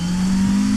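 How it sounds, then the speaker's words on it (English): A McLaren GT3 race car in the RaceRoom sim holds a loud, steady engine note through the whole short burst, close and uninterrupted, with no voices over it. "I'll let you listen to the beautiful engine notes."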